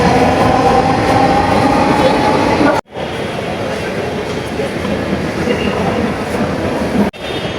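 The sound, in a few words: metro train arriving at station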